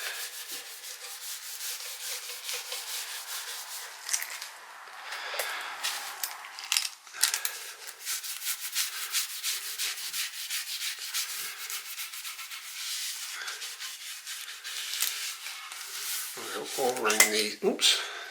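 Steady rubbing and sanding-like friction as oil finish is worked by hand into a Telecaster kit guitar body, continuous and close, with a brief louder scrape near the end.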